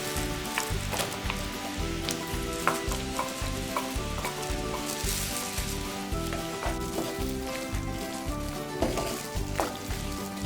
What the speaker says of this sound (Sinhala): දැන් අපි කපාගත්ත අන්නාසි ටික සුගර් සිරප් එකේ එකතු කර ගන්නවා.